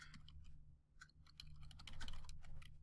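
Fingers type on a computer keyboard, a quick, irregular run of close key clicks over a low steady hum.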